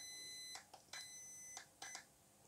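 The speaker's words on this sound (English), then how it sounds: "we've got a long beep and then a short beep, which is five plus one" An RC vehicle's electronic speed controller gives a faint long beep followed by shorter beeps, with soft clicks between tones in a quiet room.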